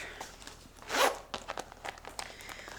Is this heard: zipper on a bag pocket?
yes